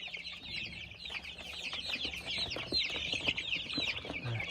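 Flock of 22-day-old chickens peeping and clucking in a continuous busy chorus of high chirps, fairly close, with faint rustling and no talk.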